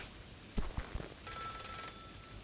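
A telephone rings in the video game Celeste, a short burst of bright ringing in the second half that follows a few soft knocks and clicks, with no voices.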